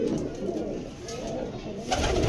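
Soft, low pigeon coos murmur steadily at close range, overlapping one another with a slight swell near the end, over faint background hiss.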